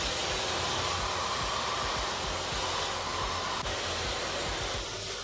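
A hair dryer fitted with a diffuser runs continuously while drying hair, a loud, steady, close airflow roar that holds evenly throughout with no talking.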